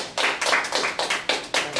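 A small lecture-hall audience at an East Carolina University alumni lecture claps for speaker Aaron Bowman, giving several uneven bursts of hand claps in quick succession, close and fairly loud, with no talking.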